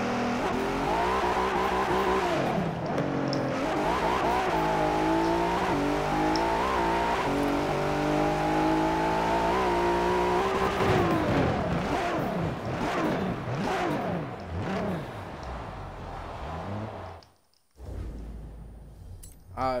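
Loud, continuous engine revving from a car in the Forza racing video game, pitch sweeping up and down with gear changes and tire squeal, a voice talking over it, dropping out briefly near the end.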